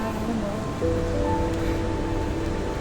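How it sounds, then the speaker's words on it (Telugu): The distant Pittala Borra waterfall in Tarabu, Andhra Pradesh, one of the state's tallest, gives a faint, steady, even roar with no voices over it. "Water fall sound."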